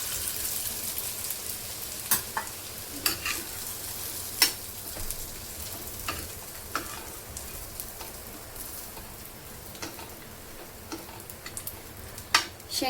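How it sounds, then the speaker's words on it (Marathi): Peanuts roast with chilli and salt in a pan for a fasting snack, with a quiet, steady crackling sizzle broken by scattered sharp ticks and pops as the nuts shift and get stirred. "शेंगदाण्याच्या कुटला 2 मिनिटं आपल्याला भाजून घ्यायचं आहे."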